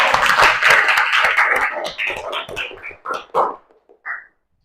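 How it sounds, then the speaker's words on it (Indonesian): A classroom of students applauds for a classmate, a loud dense burst of clapping that thins out into a few scattered, uneven claps before stopping. "Oke, berikan tepuk tangan untuk Aser."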